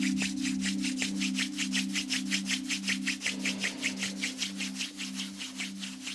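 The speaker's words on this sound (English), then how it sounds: "rubbing the palms together" Palms rub briskly together in a steady, fast rhythm of swishing strokes, close and clear, over a constant low droning tone.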